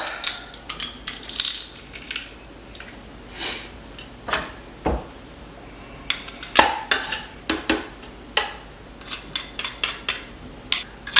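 A utensil clinks and scrapes in a bowl as garlic cloves are mixed into compound butter, a series of irregular taps and clatters with brief pauses between them, fairly close and with no talking.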